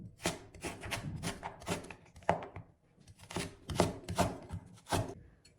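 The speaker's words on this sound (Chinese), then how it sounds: "切好之后，我们再给它切成粗条" A knife cuts a vegetable into thick strips, about a dozen crisp, close chops in an uneven rhythm with short pauses between groups, quiet and without talk.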